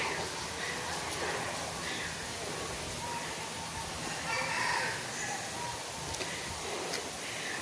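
Pheasants and other birds call in a large zoo aviary, scattered crowing and clucking sounds over a busy, noisy background while someone talks intermittently.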